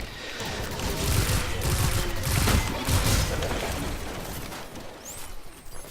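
A 5-round burst weapon fires in the game Destiny 2, dense rapid shots rolling loudly together, then fading into reverberant tail.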